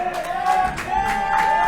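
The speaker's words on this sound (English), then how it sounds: "the crowd trying to rally behind Nick Wayne as he is fighting his way out of the TJP clutch" Wrestling crowd at a Nick Wayne versus TJP match rallying with a steady, moderate roar of cheering and murmuring voices, with a sustained tonal whistle or chant rising above the noise.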